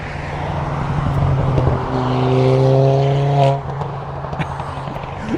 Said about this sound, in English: The usual noisy cars going by.